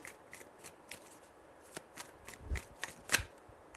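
Quiet, close hand shuffling of a tarot deck: soft scattered card slaps and riffles at an uneven pace, with one sharper snap near the end.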